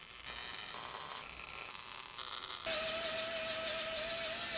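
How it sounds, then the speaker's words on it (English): Welding on the steel body panel of a GMC truck, laid down as small scattered spots: a steady crackling, hissing buzz close by that grows louder and harsher partway through, with a thin sustained whine over it and no talk. "Weld little spots all over the place so we don't get it too hot in one particular area."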